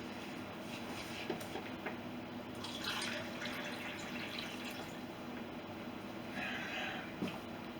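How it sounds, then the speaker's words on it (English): Water pours into a cup for a sourdough starter in a home kitchen with hard, calcium-heavy water, a soft steady trickle with brief splashy bursts, close by and fairly quiet. "let me get 1 cup of water to go in with this"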